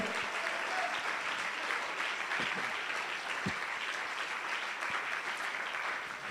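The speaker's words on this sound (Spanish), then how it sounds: "Dele ese aplauso al Señor." A church congregation claps during a sermon. The applause is broad and even, held at a moderate, somewhat distant level for several seconds, with a few sharper claps standing out.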